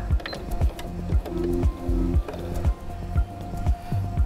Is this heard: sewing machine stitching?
yes